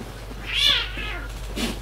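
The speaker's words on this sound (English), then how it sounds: "Freaking cats." A cat in the video game Dark Souls lets out a loud, drawn-out meow followed by a shorter second call, close and clear with no talking over it.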